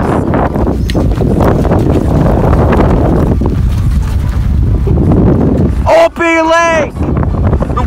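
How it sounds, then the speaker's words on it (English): Strong wind buffets the microphone at an outdoor disc golf event, a loud, steady rumbling roar that fills the whole stretch, with a brief whistle-like tone near the end. "Super windy."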